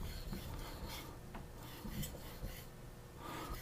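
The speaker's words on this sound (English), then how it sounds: "Basically now you're just polishing that fine edge that you just did." Fine-grit polishing strokes on a JM Wand petty knife make soft, repeated rasping rubs against the stone, fairly faint and close, with light breathing between strokes and no speech.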